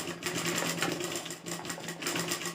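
A sewing machine stitches a salwar with a steady, continuous mechanical whir and rapid needle pulsing, close and fairly loud throughout with brief dips in speed.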